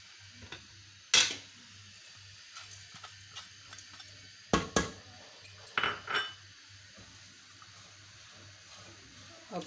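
A cup of sugar tipped into a pot of jamun sharbat on the stove: a few short, sharp rushes and clinks separated by quiet stretches.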